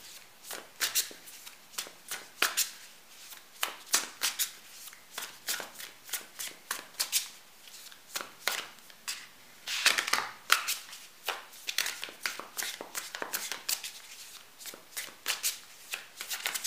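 A deck of tarot cards is shuffled by hand up close, with rapid, repeated riffling and slapping bursts in an uneven rhythm and no talking.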